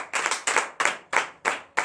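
Congregation clapping in unison during a morning prayer service in Benin, six close, steady rhythmic claps at an even moderate tempo.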